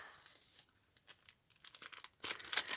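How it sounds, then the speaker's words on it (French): A gift parcel being unwrapped up close, soft crinkles and rustles that build into louder bursts of paper tearing and crumpling near the end. "je vais commencer par déballer celui-ci"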